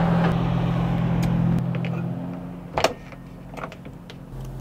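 Someone climbs into a Toyota TownAce camper van at a rainy highway service area beside idling trucks; the loud engine drone muffles sharply, a door thuds shut, then a faint rumble remains.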